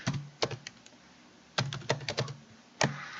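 Close typing on a computer keyboard while writing Python code, a few short clusters of crisp key clicks separated by brief pauses.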